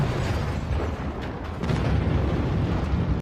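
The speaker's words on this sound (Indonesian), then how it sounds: "diikuti helikopter si Otong yang meledak" A helicopter explodes in the action film Carter, a heavy rumbling blast with sustained roaring low-end debris and fire noise filling the whole stretch.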